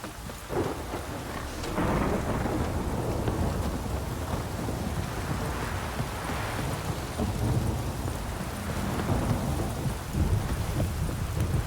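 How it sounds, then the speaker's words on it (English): Steady heavy rain and rolling thunder in the Witcher 3: Wild Hunt game world, a dense continuous downpour with low rumbles swelling throughout, loud and without voices. "If it don't stop raining, my arse will rot off."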